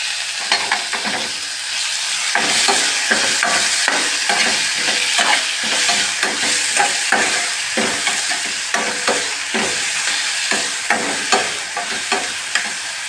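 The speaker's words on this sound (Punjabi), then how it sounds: "ਐਵੇਂ ਚੰਗੀ ਤਰ੍ਹਾਂ ਗੱਡੇ ਨਾਲ ਟਮਾਟਰਾਂ ਨੂੰ ਭੁੰਨ ਲੈਨੇ ਆ" Chopped tomatoes roast in a hot frying pan for a tomato-sauce masala Maggi, with a steady loud sizzle broken by repeated scraping strokes of the stirring spoon throughout, no voices.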